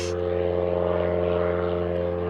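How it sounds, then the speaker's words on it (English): A propeller airplane drones overhead in remote wilderness, a loud, steady engine hum with a strong tonal buzz that holds constant throughout, with no voices. "Damn planes."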